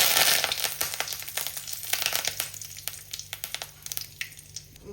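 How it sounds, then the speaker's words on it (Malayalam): Curry leaves hit hot oil with a sharp burst of sizzling that settles into crackling and spitting pops, close by, gradually easing. "നമുക്ക് ഇനി കരിവേപ്പില ഇട്ട് കൊടുക്കാം."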